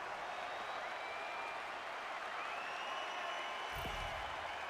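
An ice hockey arena crowd at an Olympic Finland versus Canada game applauds a Canada goal, a continuous, distant wash of clapping and crowd noise with a brief low thump near the end.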